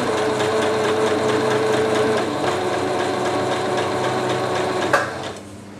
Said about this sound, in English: Using an overlocking stitch or straight stitch, whatever your machine has, you just go all the way around here.